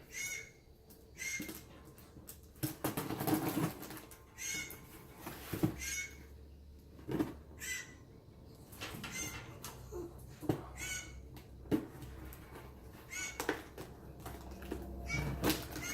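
Bird calling outdoors during an optic unboxing, with repeated short harsh calls spaced across the clip among rustling and handling noises of packaging, no speech.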